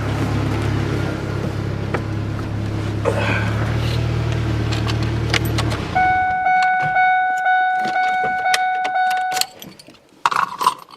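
A 1997 Ford Ranger pickup on a test drive, with its engine idling steadily up close before the truck pulls off. Keys jangle, a few light rattles follow, and a short bright tone sounds near the end.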